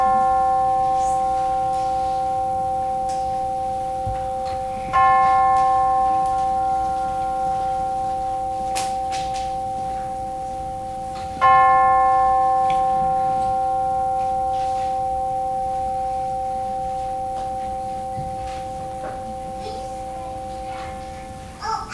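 A single bell struck twice to open a church service, each clear ringing strike sustaining and slowly fading into a quiet room.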